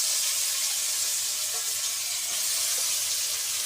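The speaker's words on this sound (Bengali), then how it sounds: "আলু দেবো। আলু দিয়ে ভেজে নিবা।" Potatoes frying in oil in a home village kitchen for chowmein, a steady close sizzle and hiss with faint stirring clicks, continuous and unbroken, no one speaking.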